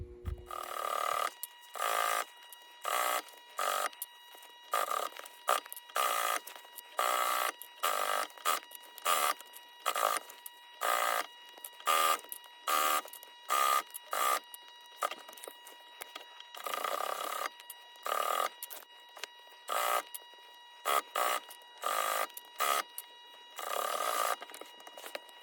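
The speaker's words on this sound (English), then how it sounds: "we will get on the machine and get the top stitch and get this done" A sewing machine top stitching a dining seat cover, running in rapid bursts of stitching separated by short pauses, fairly faint and alone.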